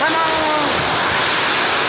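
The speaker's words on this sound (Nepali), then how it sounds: "यता टिन फेरि टप्किन थालिसक्यो" Heavy rain pounds a tin roof, a loud, dense and unbroken hiss of drops drumming on the metal sheets that holds steady from start to finish.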